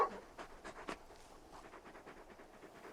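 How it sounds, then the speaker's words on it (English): A large in-game dog in Final Fantasy XVI pants softly in quick, rhythmic breaths, with a few sharper huffs near the start, faint and close, with no talk. "You're just a big puppy, aren't you? A very big puppy."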